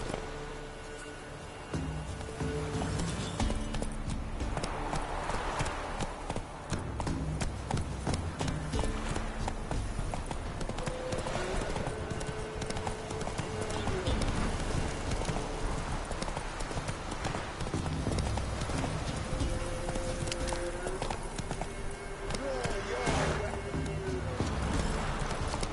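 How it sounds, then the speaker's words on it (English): Horse galloping in The Witcher 3, a continuous rapid drumming of hooves that starts after a quiet moment and stays close and steady, with ambient game sounds beneath. "Come on now. Run, Roach"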